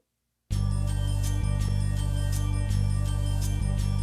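A keyboard's pad and music box voices play together: a sustained warm synth pad holds steady beneath a series of bright, tinkling chime-like plucked notes, fairly soft and close.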